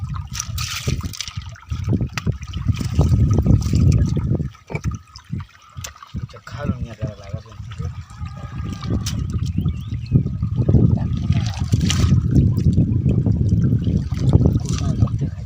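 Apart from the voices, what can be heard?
strong flowing water current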